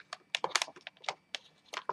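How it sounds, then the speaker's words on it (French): Fingers tap on a computer keyboard, a quick irregular run of close, crisp keystrokes with brief pauses, no voices. "à l'aide du clavier donc qui est ici, je vais taper les données"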